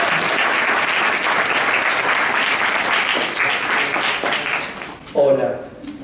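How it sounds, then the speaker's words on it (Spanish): Audience applause welcoming the speaker at a book presentation, steady dense clapping from a crowd that fades out near the end as a voice begins talking. "Los recibimos con un aplauso."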